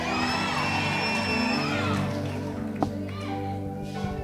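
A church congregation cheers and ululates for Jesus, high trilling cries and shouts rising together loudly at first, then thinning into scattered calls and a sharp knock.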